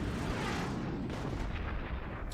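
Weapons firing in the Forts strategy game, with cannon and howitzer shots among them, a dense, rumbling barrage of booms and blasts with a few sharper cracks, continuous and fairly faint, with no commentary over it.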